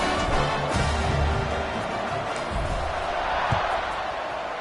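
In College Football 25, a stadium crowd roars in a dense, steady wash of cheering and noise during a kickoff, with a faint thump partway through.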